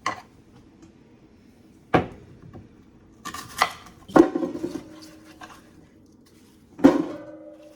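Apples, oranges and ginger being cut on a board for homemade cider give a handful of separate knife chops and thuds, close and sparse with quiet gaps, and a small cluster of clattering taps in the middle.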